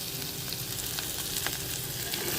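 Onion frying in a pan with turmeric added, a dense, loud, continuous sizzle with faint stirring scrapes, close and steady, no voices.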